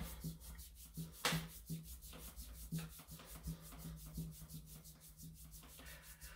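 Fingertips rub back and forth over the ears during a qigong facial self-massage, a close, steady swishing friction with soft rhythmic strokes throughout, no talking.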